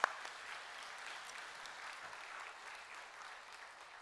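Quiet congregation applause during a Sunday church service, a soft, distant, steady patter of many hands after a sharp opening clap, slowly tapering.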